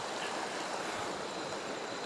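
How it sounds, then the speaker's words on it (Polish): Steady broadband rush of a river flowing through jungle in Xuan Son National Park, Vietnam, a continuous close water wash with no breaks and no voices. "Rzeka jest tu, jak widzicie."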